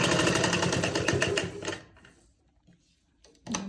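An electric sewing machine stitches a sleeve onto a shirt, a fast close rhythmic whirring burst that stops after under two seconds, followed by quiet handling and a brief restart at the end.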